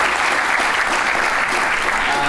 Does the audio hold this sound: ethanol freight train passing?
no